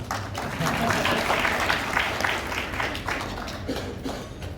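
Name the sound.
audience clapping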